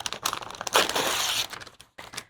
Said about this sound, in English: you score the top of that paper with a pin or some scissors, and then this actually just peels right off of the hoop.